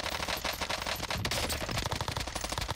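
Rapid automatic weapon fire in Call of Duty Warzone Rebirth, continuous close machine-gun bursts with hardly a break, loud and unaccompanied by voices.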